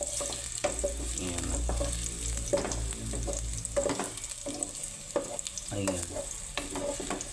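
Garlic sautéing in a pan for a Filipino mung bean dish, a steady sizzle with stirring scrapes throughout while a person speaks briefly over it.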